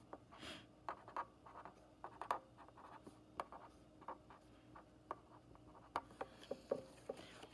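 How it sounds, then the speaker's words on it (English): Pen or pencil drawing a number line by hand on paper, faint scratchy strokes and light taps in an irregular rhythm, close and quiet with no talk. "if I draw my number line"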